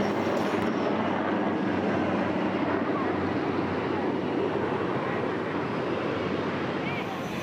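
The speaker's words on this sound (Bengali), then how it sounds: "ওই দেখুন যুদ্ধ বিমানগুলো ফিরে যাচ্ছে" Fighter jets head back over a Navy Day display at Puri on the coast, a sustained broad engine roar that stays loud and steady before easing slightly, with crowd voices faintly beneath.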